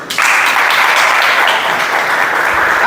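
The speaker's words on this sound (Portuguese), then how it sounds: "Obrigado, palmas para eles" A lecture audience breaks into loud, sustained applause that starts abruptly and keeps an even, dense clatter of many hands for nearly three seconds.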